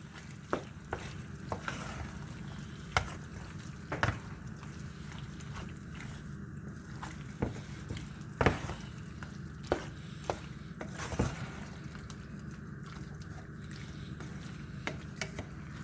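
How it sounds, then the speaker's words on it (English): Creamy chicken, sausage and spinach pasta stirred in a pan, a quiet soft sizzle with repeated scraping and clinking taps of a utensil against the pan, no talk. "And now I'm gonna give it a stir."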